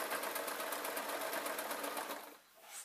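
A sewing machine runs steadily while stitching the hem of a man's tee shirt, a fast even whirring with a rapid stitch rhythm, loud and close, slowing and stopping near the end with a brief pause before restarting.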